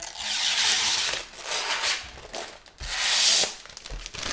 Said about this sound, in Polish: Zdejmijmy może folię.